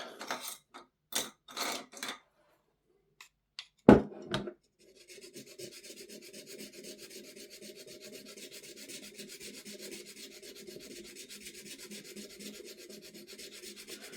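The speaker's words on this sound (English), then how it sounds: "So this is a bit more of an aggressive file." A coarse metal file rasps steadily across an airsoft gas blowback rifle part for the Maruyama MP9, with a few separate knocks and taps first, then a continuous close grinding scrape.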